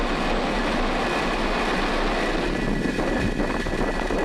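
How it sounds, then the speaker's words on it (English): A Falcon rocket's engines roar at liftoff, a loud, continuous broadband rumble filling the whole stretch with steady, dense noise and no voices. "Ignition and liftoff of FTA."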